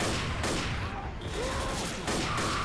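Hunting rifle gunshots in Left 4 Dead, several sharp reports spaced about a second apart amid constant game noise and a loud background din, fairly close, no talk.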